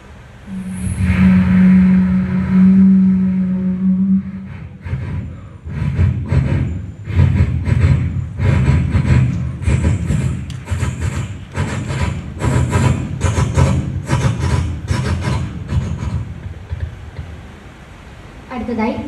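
A mimicry artist on a stage vocally imitates a train coming from far away, rising into a loud rhythmic clatter of wheels with a whistle and then fading into the distance.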